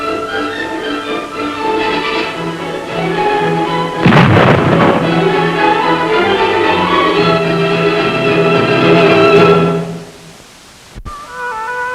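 Explosions from demolition of former Viet Cong guerrilla hiding places, a loud broadband blast burst around the middle over a continuous dense background with tonal layers, fading near the end.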